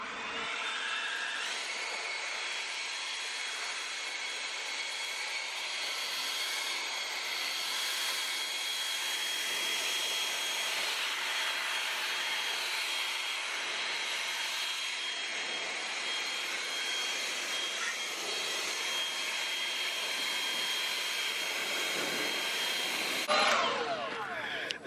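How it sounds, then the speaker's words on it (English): A new leaf blower roars steadily outdoors, blowing dirt out of an outdoor DIY space, a loud continuous whine that holds for over twenty seconds before cutting off near the end. "I'm gonna go get my new blower real quick and see if I can get some more of this dirt out of here"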